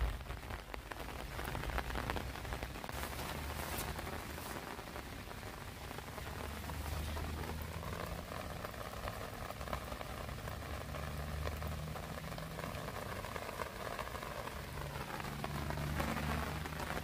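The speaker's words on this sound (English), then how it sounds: "We have a steady rain, a really good rain right now." Steady heavy rain pours onto a flooded yard after more than three inches of rainfall, a dense continuous hiss of drops on water and surfaces with a faint low engine hum beneath.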